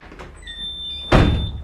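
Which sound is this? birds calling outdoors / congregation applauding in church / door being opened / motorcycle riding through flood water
door being opened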